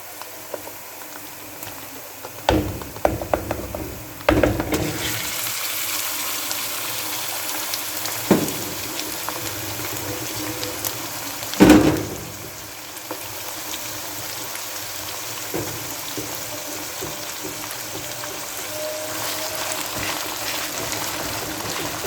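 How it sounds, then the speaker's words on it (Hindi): Minced meat fries with lightly browned onions in a pan, giving a steady, moderately loud sizzling hiss punctuated by occasional spoon scrapes and clanks as it is stirred. "इसको अच्छी तरह हिलाएंगे और 2 से 3 मिनट के लिए हम इसको फ्राई करेंगे।"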